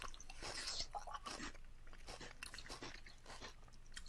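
Crunchy food being bitten and chewed close to the microphone for ASMR, a run of crisp crunches and soft mastication sounds repeating irregularly, quiet and intimate with no talking.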